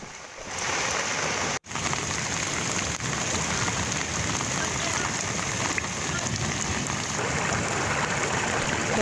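Heavy evening rain pours down in Barmer, Rajasthan, amid strong winds, a dense, steady roar of rainfall that is loud and continuous, with one brief dropout near the start and no voices.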